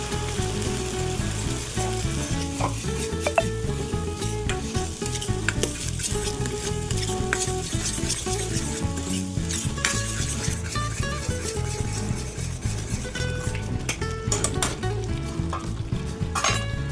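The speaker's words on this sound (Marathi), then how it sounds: "कढईमध्ये तेल गरम करत ठेवायचे आणि जे वाटण आपण तयार केलेलं आहे ते वाटण याच्यामध्ये अगदी छान तेल सुटेपर्यंत भाजून घ्यायचं" Ground masala paste roasts in hot oil in a kadhai for a Solapur-style mutton thali, with a loud, continuous sizzle and repeated scraping of a spoon against the metal pan.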